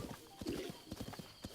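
Horse hooves clip-clop in a steady, brisk rhythm as a mount trots across ground in Zelda Breath of the Wild, fairly quiet and even, with a faint snort mixed in.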